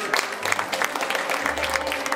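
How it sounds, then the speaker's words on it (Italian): An audience claps for brides modelling gowns at a wedding dress fashion show in Turin: brisk, dense applause from a moderate-sized crowd with a low hum underneath. "Facciamo un applauso a queste spose"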